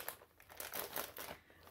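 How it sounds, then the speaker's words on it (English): A plastic mailer bag on a subscription box is torn open by hand, giving a close, crinkly ripping and crumpling that lasts under two seconds with a few louder bursts. "I like right away that I can just rip the bag."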